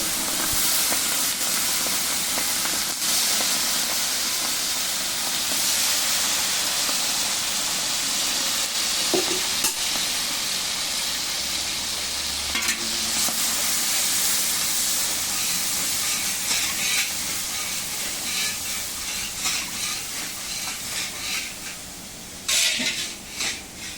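Steady, loud sizzling hiss of shrimp frying in a hot pan after cumin, bay leaf and dried chilli, continuous throughout with a few faint clinks near the end.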